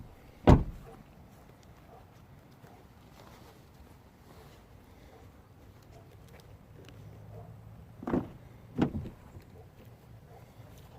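A Ford Focus 1.6 rear left door swings open with one sharp knock near the start, then shuts with two close thuds about eight seconds later, quiet interior background between.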